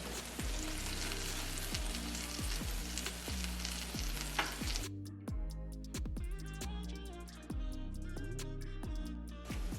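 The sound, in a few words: buffalo wings being flipped and sizzling in a Ninja XL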